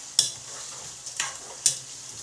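A spoon scrapes and stirs a sausage skillet in a pot, three short scraping strokes over a faint sizzle, close and fairly quiet with no voices.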